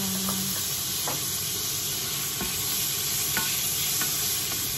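Sausage hotdog slices being stir-fried for yakisoba sizzle steadily in hot oil, with a close, continuous hiss broken by occasional scrapes and taps of a utensil against the pan.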